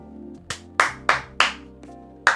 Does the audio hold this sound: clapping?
yes